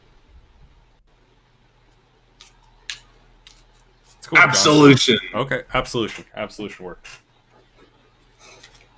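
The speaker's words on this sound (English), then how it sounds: "All right, shuffling cards" Playing cards shuffled by hand at a tabletop role-playing game session, a quick riffle burst of a few seconds in the middle, with quiet chatter from players before and after.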